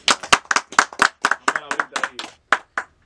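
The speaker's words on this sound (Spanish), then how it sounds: "Fuerte el aplauso para Demolition X." Sparse, distinct hand claps ring out in a studio, each clap separate and fairly loud, forming an irregular run of about a dozen claps rather than a full crowd.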